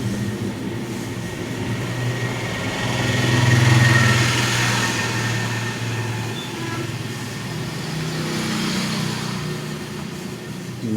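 Traffic on a main road rumbles past in a steady, continuous roar that swells briefly as a vehicle goes by. It is heard from a roadside spot where a Honda Unicorn motorcycle is being worked on.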